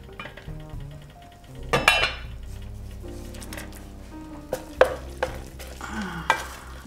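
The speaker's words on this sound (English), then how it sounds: "then we'll mix this all up together" A spoon stirs a veggie burger mixture with added oatmeal in a pan, giving soft scraping and a faint sizzle, broken by several sharp clinks of utensil against metal.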